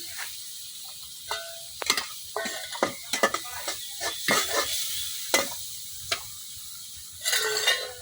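Green chilies dropped into a wok of dried fish frying for a village-style greens dish, bursts of sizzle and sharp scraping stirs in uneven spurts, no talking.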